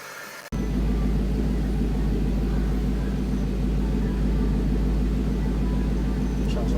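An engine idles in a steady, even low rumble after a spark plug change, following earlier misfiring on one bank, mainly cylinder one. The loud drone starts abruptly just after the beginning and holds without stumbling or surges.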